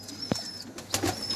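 A pigeon kept by a pigeon fancier, heard in a short burst of wing flaps and rustling with a faint coo close by, no voices over it.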